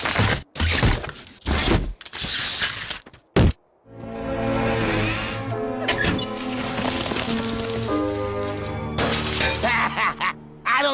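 Cars are smashed and their glass shatters in a rapid burst of crashing bangs and breaking glass, followed by a long ringing tinkle of shards and debris settling, loud and close with no talking.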